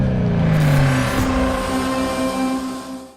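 A four-cylinder car engine runs close by, a rising drone with a falling pitch sweep early on, then steady engine tone as the car pulls away and drives on a road test, with no voices.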